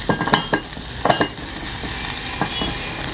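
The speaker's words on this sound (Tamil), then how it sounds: "அந்த ஆயிலில் பூண்டு நறுக்கி வச்சுருக்கேன், அது கொஞ்சம் போட்டு அது கோல்டன் கலர் வர வரைக்கும் வெயிட் பண்ணலாம்" Oil sizzles and crackles steadily in a pan as chopped garlic fries, with occasional scraping stirs, close and continuous.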